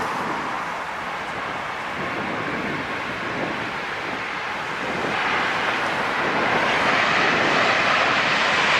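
A passenger jet takes off at Los Angeles International Airport, its engine roar loud and sustained, swelling stronger in the final seconds, with no talk over it.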